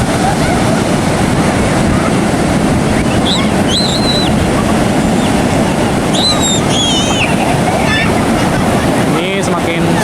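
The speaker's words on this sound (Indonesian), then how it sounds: "Ini semakin sore semakin gede ombaknya." Ocean surf at Parangtritis beach, Yogyakarta, roars as a loud, continuous wash of breaking waves with wind buffeting the microphone, while faint high chirps come through now and then.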